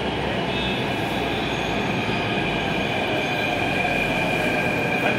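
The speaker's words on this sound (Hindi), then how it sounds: "हमारी मेट्रो आ चुकी है।" A Jaipur metro train pulls into a station with a steady, loud rumble of rail cars and faint wheel squeal, continuous throughout with no talking.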